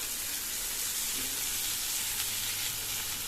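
Turkey berries cut and cleaned, sautéing with ginger garlic paste in a pan for a Tamil sundaikai varuval, giving a steady, close sizzling hiss throughout with no talk.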